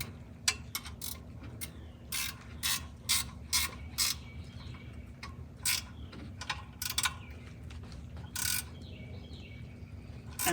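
A hand ratchet snugs down a bolt while a pole barn garage is built, giving repeated quick clicking bursts in irregular groups over a faint steady hum, fairly close, with no talking.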